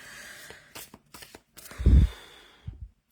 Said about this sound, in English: let's shuffle my cards